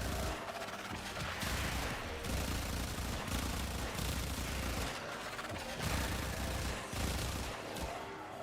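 Gunfire in the Warframe video game, quiet and dense, with rapid bursts of shots broken by brief pauses, heard on its own without talk.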